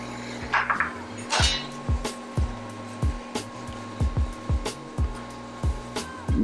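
Bratwursts get stirred in a saute pan over medium heat, a utensil clinking and scraping against the metal in a steady series of sharp knocks about every half second, over a constant low hum.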